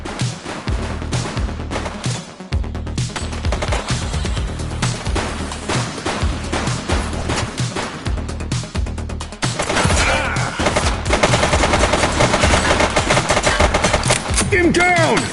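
Gunfire during a shootout with gang members in the video game The Precinct, dense rapid shots and impacts throughout, loud and close, with a heavier burst of firing in the second half.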